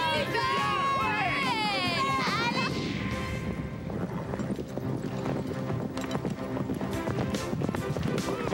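Cartoon horses galloping in a race, a steady rapid clip-clop of hooves running under continuous music and voices, with a whinny early on.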